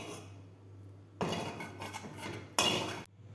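A mixer grinder jar is set onto its base in a home kitchen while tomato chutney is prepared, giving two sharp clattering clunks over a quiet background.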